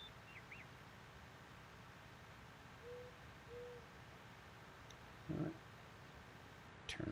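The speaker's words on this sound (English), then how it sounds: "I like to hearing the birds and stuff." Owl hoots and other birdsong play in a countryside farming game world, a few soft, brief calls rising over a quiet, steady background hush.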